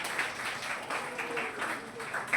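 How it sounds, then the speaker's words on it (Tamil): Congregation at a church festival mass claps together, a steady moderate round of applause throughout. "கைத்தட்டுங்க."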